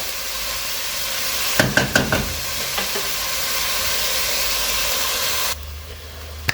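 Beef browning in oil in a pan, a steady close sizzle with a few clinks of a utensil stirring, the hiss dropping abruptly near the end.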